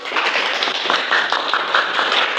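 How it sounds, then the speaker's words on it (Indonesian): A school class breaks into loud, busy applause for group 1 after their presentation, many hands clapping close together in a continuous, dense patter. "Tepuk tangan dulu untuk kelompok 1."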